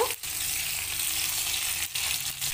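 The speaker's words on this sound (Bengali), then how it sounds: "সব কিছু দিয়ে দেওয়ার পর হালকা করে একটু নেড়েচেড়ে ভেজে নেব।" Cumin, coriander and chopped green chilli sizzle lightly in oil with a steady hiss, briefly broken twice by short stirring pauses, close and even.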